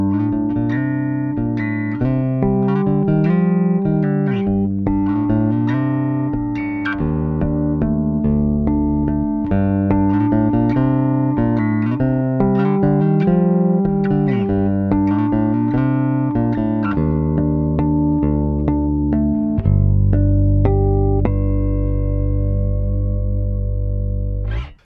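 Sandberg signature bass guitar run through an LA-2A optical compressor emulation, playing a steady groove of punchy, even notes with a long held low note near the end, loud and alone.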